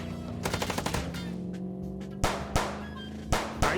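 Gunfire rings out in the video game Chicken Police, rapid bursts of automatic shots followed by a few loud, spaced single blasts, with a low mechanical hum underneath.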